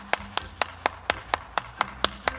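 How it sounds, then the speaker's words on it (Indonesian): Sharp, evenly spaced claps, about ten in a row, ring out close and loud at a children's Sunday school session, each a crisp single smack with brief silence between. "Tepuk tangan dulu dong buat adik-adik Super Kids."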